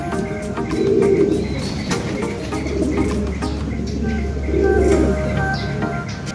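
About 22 or 23 pigeons in a racing pigeon loft coo in low, rolling bursts that repeat several times over a constant background murmur, fairly close with no clear speech.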